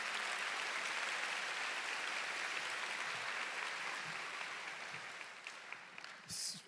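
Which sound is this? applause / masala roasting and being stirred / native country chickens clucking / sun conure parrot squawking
applause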